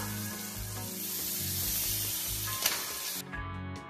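Chicken pieces sizzle in a pan of spices frying in oil for a country-chicken curry, a steady loud hiss with faint stirring scrapes that drops off sharply near the end.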